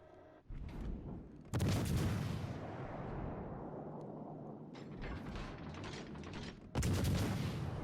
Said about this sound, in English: we're going to go ahead and take shots at this Cleveland